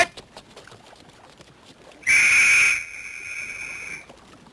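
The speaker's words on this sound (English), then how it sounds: "That's an officer's whistle." An officer's whistle aboard the Titanic blows one sharp, shrill blast of under a second, loud over quiet background, with a faint tail of tone afterward.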